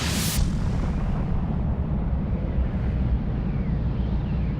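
A supernova explosion rendered as a deep, sustained rumbling roar that opens with a bright burst and then holds steady and loud throughout.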